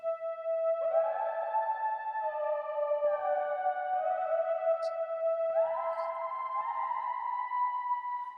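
A Logic ES2 synth lead drenched in reverb plays a slow melody, its sustained notes sliding smoothly into one another with portamento, each one trailing a soft wash of echo.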